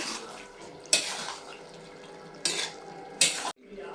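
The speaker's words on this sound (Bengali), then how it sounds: "এখন আমি আলুগুলো মিশিয়ে নিচ্ছি, একসাথে মেশাবো আলু এবং মাংস" Potatoes and meat stirred together in a cooking pot with a utensil, a few sharp scraping clanks against the metal over a low background hum, ending abruptly.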